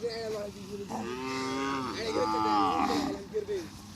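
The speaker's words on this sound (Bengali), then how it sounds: "দেখেন কি পরিমাণে গরু" Several cattle moo loudly and close by on a Padma river char near the India-Bangladesh border, long drawn-out lowing calls overlapping one another with no talking.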